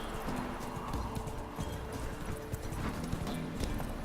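Rapid rhythmic hoofbeats of a galloping horse in The Witcher 3: Wild Hunt pound continuously over a rough outdoor ambience, close and steady, with a brief whinny-like tone.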